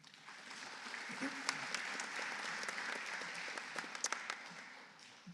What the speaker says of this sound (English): we'll give a quick round of applause for him